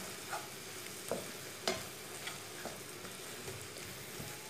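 Okra in a pan being mixed with cream, red chili, turmeric and whole coriander, no oil added: a quiet, soft scrape of a spoon with a few separate clicks and taps over a faint steady hiss.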